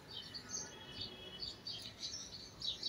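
Small birds chirp and tweet near a hillside home, their faint high calls scattered throughout against a soft, steady background rumble of distant road traffic.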